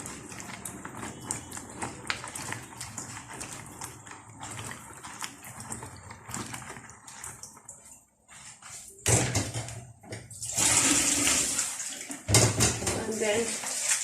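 Okra rinsed under running water for a Nigerian plain okra soup, a steady splashing tap flow that swells louder in two bursts near the end, with quieter kitchen handling before it.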